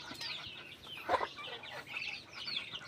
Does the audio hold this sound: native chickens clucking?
yes